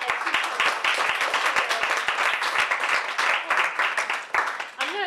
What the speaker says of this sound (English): would you give Dr. Tracy Johnson a round of applause